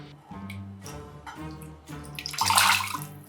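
Liquid Death canned water poured into a rum cocktail, a brief splashing gush near the end that follows a humming tonal background.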